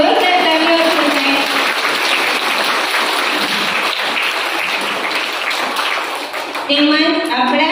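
Loud, sustained applause rises from the audience at a school Independence Day celebration for young pupils, a thick wash of clapping lasting several seconds, with a voice speaking over its start and again as it fades.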